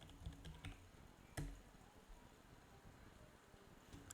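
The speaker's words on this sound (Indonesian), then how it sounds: "Mari kita cek kembali dengan mengetik kembali ke terminal" A computer keyboard being typed on while entering a terminal command: a few quick, quiet key clicks early on, a sharper tap near the middle, then faint background hum.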